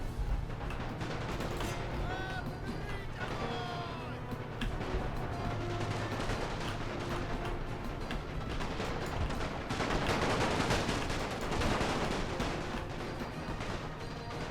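A battle rages in the Great War Total War video game. Dense, continuous gunfire and distant volleys crackle without pause, with a louder burst near the end, and faint voices are mixed underneath.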